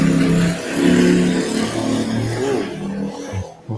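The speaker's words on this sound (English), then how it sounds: "motor sound. Not the wheel, the motor. The motorbike." A motorbike motor revs in close, wavering pulses, its pitch rising and dipping over a few seconds with no one speaking.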